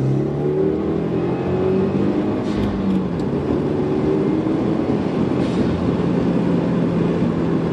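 A 2016 Subaru WRX accelerates hard in second gear through traffic, its engine note rising steadily beneath heavy road and wind roar, loud and continuous throughout.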